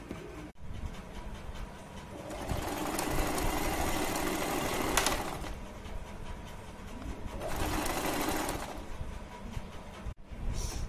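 Sewing machine stitching the side seam of a kurti, a steady close mechanical whirr running in two longer bursts with brief pauses between them.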